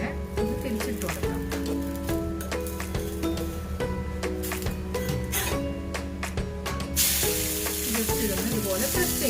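Dough frying in oil in a pan just after being flipped, with a steady close sizzle and crackle running throughout beneath a few faint clinks.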